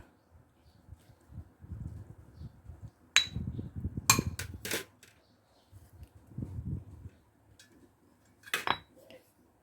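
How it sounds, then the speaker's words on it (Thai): Chili, garlic and lemongrass pounded in a mortar with a pestle, uneven bursts of dull thuds broken by a few sharp ringing knocks, close and moderately loud, with no talk. "โขลกทุกอย่างนะคะ ให้พอหยาบๆค่ะโขลกเลยค่ะ"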